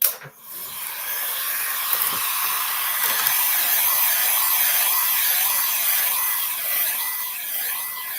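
A handheld heat or hair dryer blows steadily over a craft project in a home art workshop, a continuous close whooshing hiss that holds level for about eight seconds with no talk.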